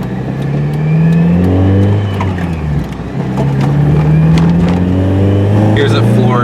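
A 1993 Mazda Miata engine floored through second and third gear, droning loud and close as revs climb, dip briefly at the shift, then climb again.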